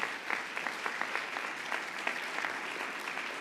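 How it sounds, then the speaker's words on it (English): Audience applause at the 2022 Celebración de Excelencia awards ceremony for finalists and recipients: a dense, steady wash of many hands clapping, sustained at an even level throughout with no talking over it. "You deserve the round of applause."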